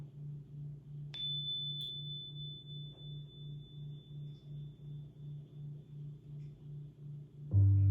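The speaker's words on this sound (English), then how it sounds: "You're going to hear the tones and allow the tones to take you even deeper." Meditation guidance tones: a steady high sine tone sustains for most of the span above a soft, rhythmic pulsing low drone that repeats evenly, ending with a louder low burst.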